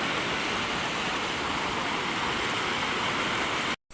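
Massive flood water rushes in a continuous, loud broadband roar, steady and close throughout, cutting off abruptly at the end.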